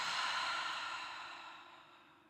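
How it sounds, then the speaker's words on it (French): A single long exhale released through the mouth during a slow, meditative yoga flow, soft and close, breathy and airy, gradually fading over about two seconds. "Et par la bouche, relâche."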